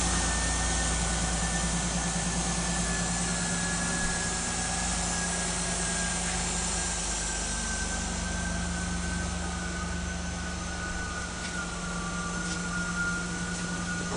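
A 2002 Ford Escape's 3.0-liter engine, paired with an automatic transmission, runs at a steady idle, a constant low hum with a faint whine above it, unchanging and close throughout.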